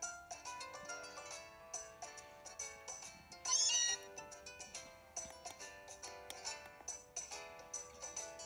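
A short, bright Meowth cry from Pokémon Ultra Moon rises briefly above quiet, evenly pulsing chiptune-style game music that runs throughout.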